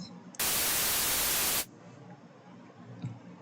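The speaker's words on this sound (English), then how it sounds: "And we want to turn the sample oscillator on. So we just have white noise." A Vital synth sample oscillator gives a burst of bright white noise, loud and flat, held for just over a second before stopping abruptly. Quiet hum sits around it.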